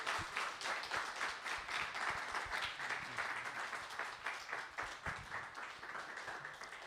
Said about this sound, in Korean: 우리 환영의 박수, 응원의 박수, 사랑의 박수로 우리 맞아주시기를 바랍니다.